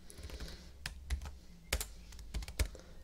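Typing on a computer keyboard while writing a short HTML file in Notepad: quiet, irregular key clicks with a few louder taps, close and alone.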